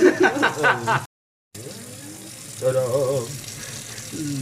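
A trout is rinsed under a running kitchen tap, a steady hiss of water with splashing that wavers as the fish moves, under laughing and chattering voices, with a brief silent break.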